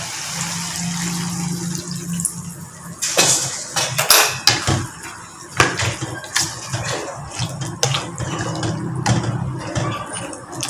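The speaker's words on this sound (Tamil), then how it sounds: "தண்ணி கொஞ்சம் ஊற்றணும்." Water poured into a pot of mixed vegetables for kootu in a home kitchen, a splashing, gurgling stream with clinks of the pot and utensils, close and without talk.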